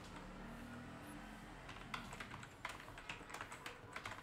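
Computer keyboard typing while a Google Docs header is being edited, coming in as a quick run of close, crisp key clicks over a low hum after a quiet opening.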